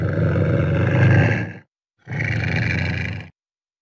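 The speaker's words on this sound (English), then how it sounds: "Where is the lynx?" A wild lynx gives two long, loud rasping roar-like calls, each about a second and a half, separated by a short silence and heard alone.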